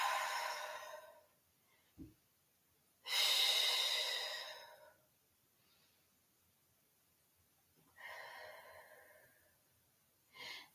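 Slow breathing in a yoga child's pose, with two long, soft exhalations several seconds apart and a brief, quieter breath near the end, close and alone in a quiet room.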